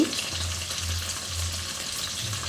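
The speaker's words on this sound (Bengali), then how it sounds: "এদিকে চিকেনটা ভাজা হতে হতে" Boneless chicken pieces fry in oil with a soft, steady, close sizzle and a faint low hum underneath, with no voices.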